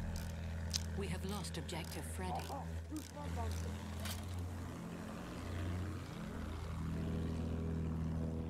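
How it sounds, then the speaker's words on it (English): Propeller plane droning overhead in Battlefield 1, a steady low engine hum that swells and shifts pitch beneath battle noise while players talk over it. "Plane behind us."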